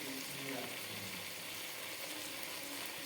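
Ground spices of turmeric, chili, coriander and cumin hit hot oil with chicken in a pan, giving a steady, faint broadband sizzle and crackle that holds evenly throughout.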